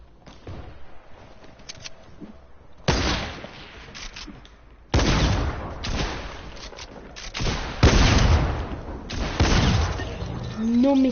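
Gunshots in Fortnite, several loud close bursts of rapid fire with sharp cracks separated by short gaps, over game ambience with some speech.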